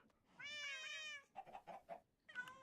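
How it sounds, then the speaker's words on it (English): Cats meowing in Minecraft, one drawn-out tonal meow followed by a quick run of short mews and another meow, near and clear with no talk. "So many cats."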